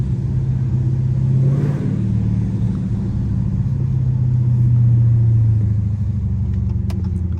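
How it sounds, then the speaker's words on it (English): A deep, loud Dodge Charger Scat Pack V8 rumble fills the cabin continuously with the window down, swelling as the car accelerates, heard close with road noise underneath. "you can hear how loud this with the window down. It's insane."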